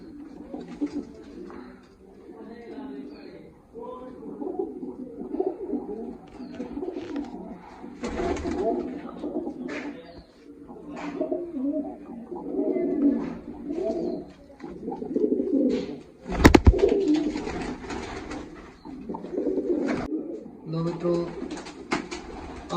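Blue racing pigeons coo in soft, repeated rolling calls throughout, close by, while someone talks over them and a brief loud thump breaks in partway.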